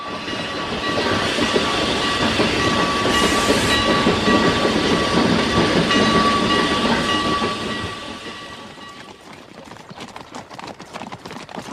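A train runs on rails, a loud, close, continuous rumble with a sustained whistle-like tone that fades away, leaving rhythmic clicking and clattering at the end.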